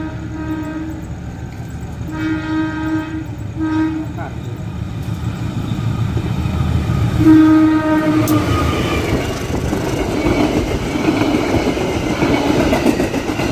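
A train hauled by a vintage locomotive rumbles past close by, its horn sounding in several long blasts over the heavy rolling clatter of wagons; voices murmur faintly underneath.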